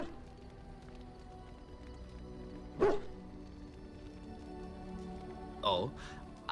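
Dog in Dragon Age: Origins gives two short sharp barks several seconds apart, heard over a low steady background bed.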